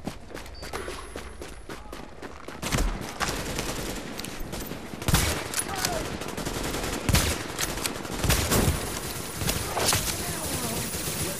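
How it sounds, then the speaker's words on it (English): Bursts of rapid video game gunfire in The Division's Dark Zone crackle repeatedly, some close and sharp, others distant, with scattered single shots between volleys. "I'm hearing gunshots all over the place."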